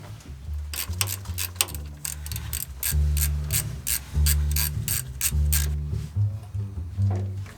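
A ratchet wrench with a half-inch socket clicks in rapid bursts of ratcheting, a series of loud nearby strokes with brief pauses, on an old steel-hulled boat.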